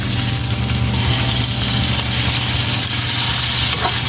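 Tomatoes land in a pan of sautéed onions and garlic for pakbet, a loud continuous sizzle and crackle of frying close up, steady throughout with no talk.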